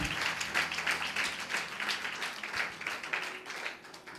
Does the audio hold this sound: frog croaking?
no